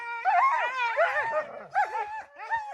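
Sled dogs loaded up for a trapline ride whine, yip and howl in rising and falling bursts, several overlapping voices close by with short gaps between outbursts.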